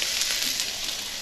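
Chicken pieces for a quesadilla sizzle and fry in a pan, a brief steady hiss with crackling, close and moderately quiet, with no talking.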